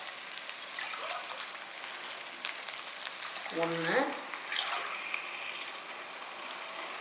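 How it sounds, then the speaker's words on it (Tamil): Coconut milk is poured into a pressure cooker in place of water for coconut-milk ghee rice, a steady hissing, splashing pour with a faint voice briefly in the background. "அதாவது தண்ணிக்கு பதில் நான் தேங்காய் பால் ஊற்றுறேன்."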